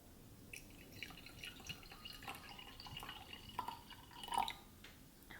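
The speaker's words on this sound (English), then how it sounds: "I'm going to pour your glass first" Grape juice poured into a glass at a Passover Seder, a quiet close trickle and drip of liquid with small glassy clinks, soft and intimate.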